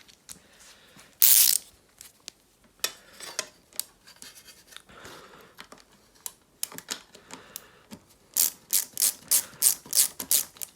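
Ratchet wrench clicking in short bursts while a cable is tightened on a Solex moped engine, the rhythmic mechanical clicks close and fairly clear, with quiet handling noises between them and no talk.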